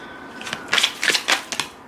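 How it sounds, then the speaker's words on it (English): Brisk oracle card shuffling, several quick riffling bursts close by with short pauses between, no voices. "Let me just shuffle it really quick."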